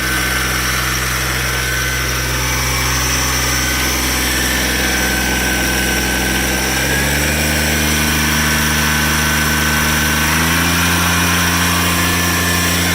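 A 1984 Cub Cadet 882 diesel garden tractor engine roars loudly and continuously at full throttle, its pitch stepping up a couple of times as it revs higher.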